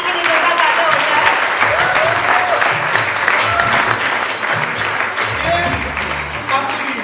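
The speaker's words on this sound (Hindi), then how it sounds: "जोरदार तालियां हो जाए" A studio audience applauds loudly for a cast member of a long-running Hindi TV comedy show, sustained close clapping with some crowd noise and cheering throughout.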